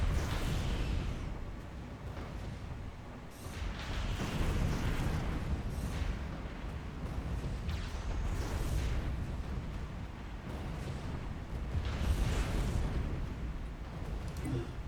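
Neutron launchers fire during Stellaris fleet combat in space, a steady, muffled stream of overlapping booms and bursts at low level, with a voice talking faintly over the barrage.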